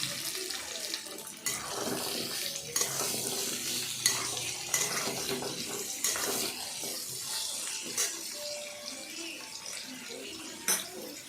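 Onion, potato and bay leaf frying in a wok, a soft hiss with irregular stirring scrapes and clinks, moderately quiet, with faint background noise.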